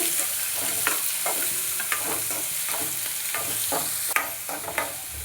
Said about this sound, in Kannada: ಕಟ್ ಮಾಡಿರುವಂಥ ಈರುಳ್ಳಿ ಹಾಕಿ ಚೆನ್ನಾಗಿ ಫ್ರೈ ಮಾಡಬೇಕು